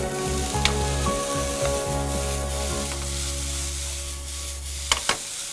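Seasoned rice for a vegetarian meal being stirred and mixed in a hot pan, a steady sizzle with occasional scraping clinks of the utensil, close and continuous, without talking.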